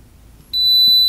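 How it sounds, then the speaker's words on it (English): A multimeter continuity beep on a dirt bike wire starts suddenly and holds, a single steady high clean electronic tone over faint background noise. "And that beeps"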